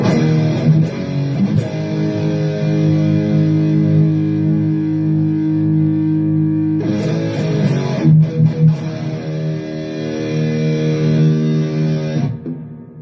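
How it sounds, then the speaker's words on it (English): Distorted electric guitar chords through a Donner Arena 2000 multi-effects pedal's noise gate ring out loud and sustained, then cut off cleanly to silence between phrases with no lingering hiss. "set the gate to a level where it's eliminating that noise that I'm playing"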